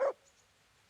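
A single short dog bark from a companion dog in the medieval role-playing game Kingdom Come: Deliverance, loud and close at the very start, followed by near silence.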